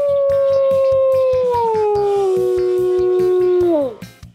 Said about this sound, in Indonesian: itu adalah serigala melolong